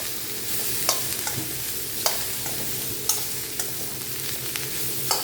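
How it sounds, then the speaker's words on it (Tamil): Bitter gourd sautés in a pan on a home stove, a constant close sizzle of frying broken by a few sharp scrapes and clacks as the pieces are stirred, with no voices. "கொஞ்ச நேரம் பாவக்காய் வந்து ஒரு 5 நிமிஷம் இப்படியே நல்லா வதங்கட்டும்."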